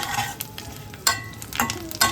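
Crushed garlic hits hot oil with dry red chillies in a home kitchen pan, giving a steady soft sizzle with a few sharper crackles and scrapes from stirring, no talking.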